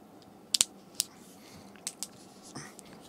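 A bottle cap being pressed down hard and twisted until its seal cracks open, heard as a few sharp close clicks and snaps in an otherwise quiet camping setting in Paju.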